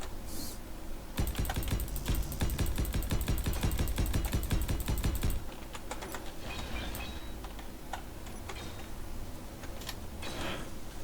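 Rapid typing on a new computer keyboard runs steadily for several seconds, clicking close and fairly quiet, then gives way to sparse, scattered clicks that may come from the new mouse, with no voices.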